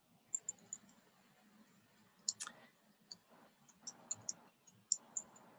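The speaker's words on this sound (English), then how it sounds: "Right, I'm typing something." Light, irregular typing clicks on a keyboard, scattered taps and short bursts spread across the stretch, quiet and close with faint background noise and no talking.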